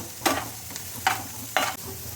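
Chopped ginger, garlic and onion fry in a pan for a paneer bhujia, with three distinct scraping stirs rising over a low, steady sizzle.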